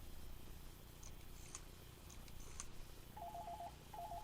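Polish AP82 field telephone wired in for a test call, faint clicks followed by two short warbling bursts of electronic ringing near the end. No talking.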